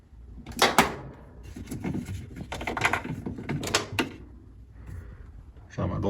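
A Kenmore 70 series washing machine agitator is pulled up and out: plastic scrapes, knocks and rattling clunks in short bursts, close by, with a person talking over them.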